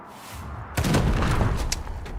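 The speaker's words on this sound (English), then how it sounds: "That's where the explosion was." A booming explosion goes off in the post-apocalyptic video game Wasteland 3, a sudden loud blast followed by a rumbling, crackling tail with a few sharp debris pops.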